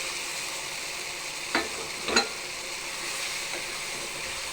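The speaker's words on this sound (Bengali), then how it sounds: "মশলা কষানো শেষ এখন আলু আর ইয়েটা দিয়ে আরেকটু কষাবো" Potatoes and peas fry in a pan of cooked spice paste under a continuous close sizzle, broken by two brief scrapes of stirring.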